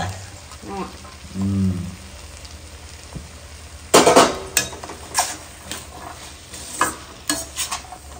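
Chopped vegetables go into tomatoes frying in a pan, followed by a run of loud clattering stirs and scrapes over a constant sizzle; a voice is briefly heard near the start.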